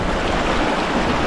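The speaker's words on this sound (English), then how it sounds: "just about to cross this river. Can't remember what it's called, but it's generally pretty shallow" Shallow, ankle-deep river flowing at a hiking crossing, a steady broadband rush and babble of water, close and loud with no voices.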